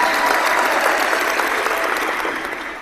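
Dense, steady applause from a crowd at a hangout event, continuous and fairly loud, holding its level before tapering off slightly near the end, with no speech over it.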